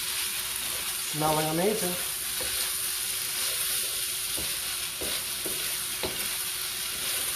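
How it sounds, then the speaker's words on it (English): Fried rice with chili bean paste is stirred in a hot pan, giving a steady, close sizzle with light scraping, while a person briefly speaks over it. "Give this a final stir."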